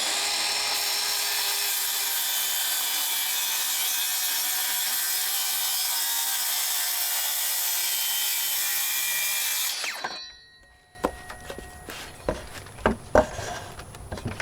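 A power saw rips through wood shed siding being fitted on a house, one long steady loud cut for about ten seconds before the blade winds down, followed by a few scattered knocks and handling clatters.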